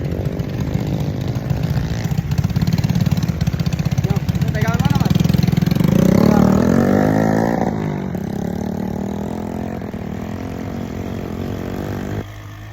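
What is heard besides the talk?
motorcycle engine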